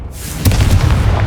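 A fiery Confringo spell blast in Hogwarts Legacy lands as a loud, deep booming burst with a sharp onset just under half a second in, rumbling on through to the end.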